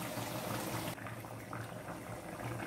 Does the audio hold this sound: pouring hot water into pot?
yes